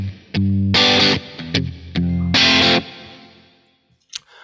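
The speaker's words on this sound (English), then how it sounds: "I choose the natural reverb, and it creates something like a big recording room." Electric guitar played through a Kemper Profiler with natural room reverb: distorted chords strike in short bursts and sustained blocks, each ringing into a roomy decay before quiet.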